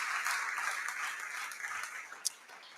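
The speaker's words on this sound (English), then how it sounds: "That was a slow ending of a clap." Applause sound effect of scattered clapping that fades out slowly, fairly quiet, with a single sharp tap near the end.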